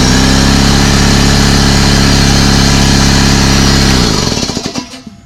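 A Masterforce 5-gallon 225 psi portable air compressor runs close up with a loud, steady motor-and-pump hum and drone, then shuts off, its sound winding down over the last second.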